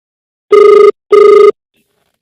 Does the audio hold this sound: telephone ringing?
yes